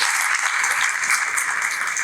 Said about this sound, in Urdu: آپ لوگ اپنے لیے بہت ساری تالیاں بجائیے